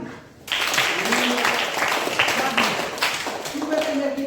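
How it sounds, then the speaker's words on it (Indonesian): Pupils in a primary school classroom break into applause during a science lesson. The clapping starts abruptly after a short quiet moment and stays loud and busy, with voices talking over it. "Tepuk tangan dulu."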